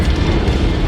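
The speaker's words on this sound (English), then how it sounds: "I managed to avoid the explosion" A mech explodes in the battle game MechWarrior 5: Mercenaries, giving a sustained, loud, low rumbling blast that fills the whole short moment without a clear onset or decay.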